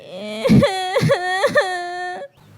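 Tearful, wailing cries from a Hindi cartoon voice actor, with a few sobbing catches, rising in three drawn-out bursts before breaking off into quiet sniffles.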